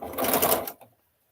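A sewing machine runs in a short, fast burst while stitching chain-pieced miniature quilt pieces, then stops abruptly with a faint click, close and alone.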